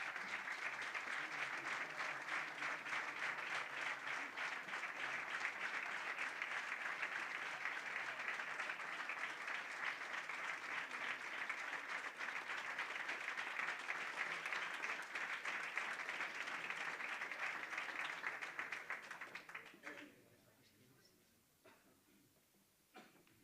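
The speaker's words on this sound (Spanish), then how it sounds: "Un aplauso." Long, steady applause from the audience at the Premio Concordia 2014 award ceremony in Alcañiz, dense and sustained for about twenty seconds before it dies away into scattered claps and room quiet.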